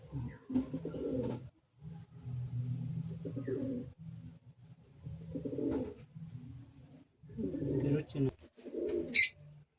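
Pigeons coo close by in repeated low, throaty bursts with short pauses between, and a brief sharp chirp near the end.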